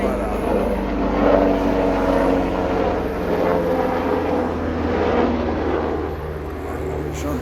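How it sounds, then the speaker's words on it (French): A gendarmerie helicopter passing nearby outdoors, a steady rotor and engine drone holding at moderate loudness throughout, with people strolling in the background and voices talking around it. "Ah, il y a un hélicoptère là-bas."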